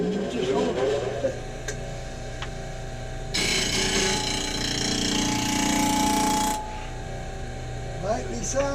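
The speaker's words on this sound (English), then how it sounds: "Lightly sand the sides." Wood segments get their sides lightly sanded on a sanding sled, a loud, sustained power-sander whir lasting a few seconds between quieter handling clicks and taps before and after.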